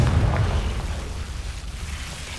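A Confringo fire spell bursts in Hogwarts Legacy, a loud, continuous rumbling explosion, heaviest at the start and fading slightly over a couple of seconds, with no voices over it.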